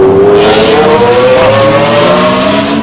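Race cars at the 1995 Le Mans 24 Hours approach the sharp right-hander at Arnage, a loud, sustained engine whine rising steadily in pitch as one car closes in.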